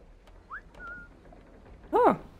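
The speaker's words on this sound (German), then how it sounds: "Ah, ich kann pfeifen." The player character whistles in Assassin's Creed 3 on Xbox 360. Two short rising whistle notes are followed by a louder, richer whistled call near the end, all quick and close over low game ambience.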